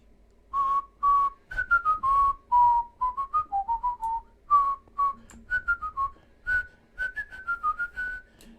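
A person whistles the washing machine song tune, a lively melody of short, clear pitched notes in quick succession with brief pauses, close and solo with no talking.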